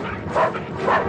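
Police dogs bark in two loud, close bursts about half a second apart, over a steady background hum.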